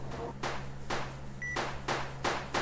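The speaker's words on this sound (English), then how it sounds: "Beeping fast." Fast electronic beeping from a Bigfoot-hunting video game plays as a steady series of short, evenly spaced tones over a low background hum, moderately quiet and with no talking.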